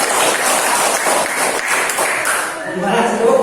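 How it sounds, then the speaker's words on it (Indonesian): Students in a class 7C classroom clap together in a dense, busy patter, with voices chattering over and through the clapping until it thins toward the end. "Tepuk tangan buat kalian."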